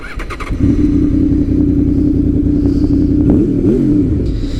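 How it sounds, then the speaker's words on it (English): A 2006 Honda VFR800 motorcycle with a gutted stock exhaust starts and idles loudly up close, holding a steady throbbing note before a couple of quick throttle blips rise and fall. "Sounds good for just being stock exhaust that's gutted a little."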